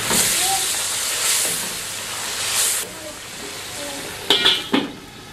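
Ginger garlic paste stirred into chicken karahi frying in a pan, giving a steady loud sizzle and hiss with a few scraping clatters near the end, no voice over it.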